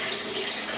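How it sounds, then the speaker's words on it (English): Water runs steadily from an aquarium tap, a loud, continuous close-up splashing hiss with no pauses and no voices. "Let it turn the water off."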